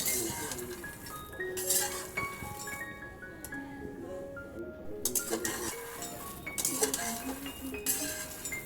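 Makhana (fox nuts) are stirred continuously in a pan while dry-roasting, giving repeated light clinks and scrapes of utensil against metal, with intermittent dish and cutlery rattles close by.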